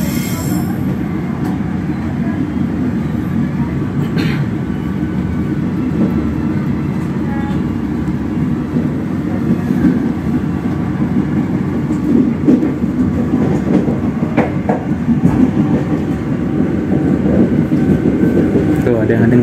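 A train rolls slowly through Pondok Jati station in Jakarta, a steady low rumble of wheels and carriages with faint squeals, continuous and close throughout, with some voices mixed in.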